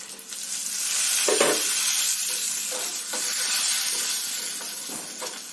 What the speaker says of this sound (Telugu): పోపు వేగింది, గ్యాస్ కట్టేసి